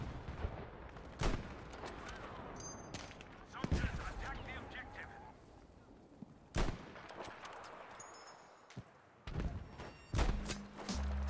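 Battlefield 5 gameplay while sniping: scattered sharp gunshots and thuds crack out at irregular intervals over a low game background, some loud and close, others fainter.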